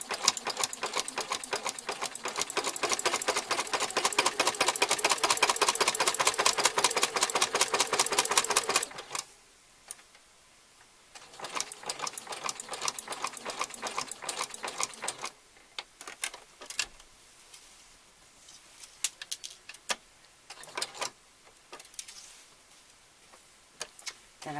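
A sewing machine stitches fabric in fast, even clatter for several seconds, then runs in shorter, quieter bursts with pauses between, close by.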